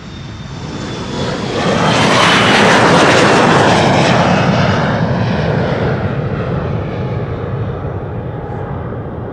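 A Qatar cargo wide-body jet passes near at Amsterdam Schiphol, its engine roar building quickly to a loud peak, then easing off into a sustained fading rumble.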